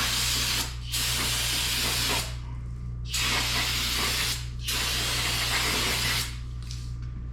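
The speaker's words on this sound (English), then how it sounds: "with brake clean, you get it wet," Brake cleaner sprayed from an aerosol can onto the front brake parts of a 2009 VW Jetta, loud hissing bursts of a few seconds each, repeated about four times with brief gaps, over a steady low hum.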